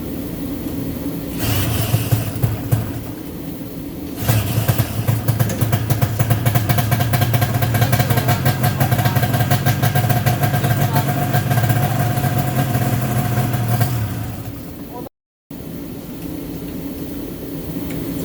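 A 1972 Ski-Doo TNT snowmobile engine sputters to life and settles into a steady, buzzy two-stroke idle, loud and close, running continuously before a brief cutout near the end.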